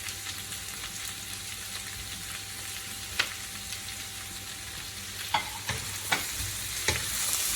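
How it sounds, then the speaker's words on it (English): Chopped courgettes fry in a vegan vegetable curry pan with a steady close sizzle, as a utensil stirs through them with scraping and a few sharp knocks against the pan, no talk. "And this I'm just going to stir."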